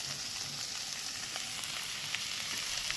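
Chopped ginger sizzles steadily in hot oil in a pan while a spatula keeps stirring it, a soft continuous frying hiss with faint scraping, close and without talk.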